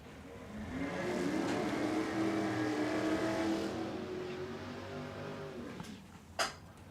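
Top Sportsman drag race cars run at Willowbank Raceway in a qualifying session, a distant engine roar building and sustaining for several seconds with a rising whine before fading away, followed by a brief sharp crack.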